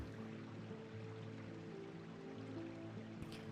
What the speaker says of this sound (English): Here I brought us this footage of this peaceful little waterfall.